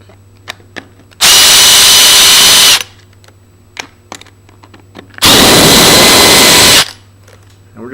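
A power drill runs in reverse, backing two screws out of a passage lever plate in two loud, steady whirring bursts of about a second and a half each, with small clicks and handling noises between them.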